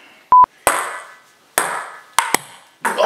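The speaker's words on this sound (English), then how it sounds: "Oh, I hit the camera again!" A tool knocks against a camera during a DIY wooden ping pong table build: several sharp, close impacts, two in quick succession, each ringing briefly, after a short high beep tone.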